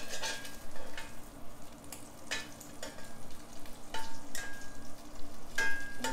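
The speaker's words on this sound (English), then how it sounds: "So I'm gonna do my sausage in here too." Sausage frying in a pan alongside shredded potatoes for a smoked omelette, a continuous close sizzle broken by repeated utensil scrapes and clicks against the pan, no voices.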